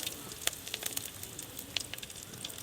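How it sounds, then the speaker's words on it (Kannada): Fresh home-grown curry leaves hit hot oil in a pan over a wood-fired stove, giving a soft continuous sizzle with small crackling pops scattered throughout, fairly faint and with no talking. "ಇದಕ್ಕೆ ಇವಾಗ ಕರಿಬೇವಿನ ಸೊಪ್ಪು ಹಾಕ್ತಾಯಿದ್ದೀನಿ."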